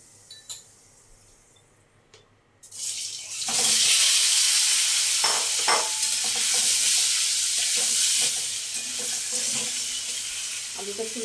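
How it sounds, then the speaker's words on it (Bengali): Potatoes dropped into hot oil burst into a loud, hissing sizzle after quiet clinks, then keep frying steadily with stirring scrapes, close up, slowly easing off. "আলুটা একটু লাল লাল করে"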